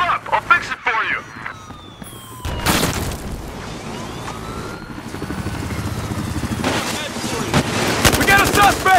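Gunfire in Battlefield Hardline, with rapid automatic bursts and loud booms over a siren and chaotic game noise. Voices are heard throughout.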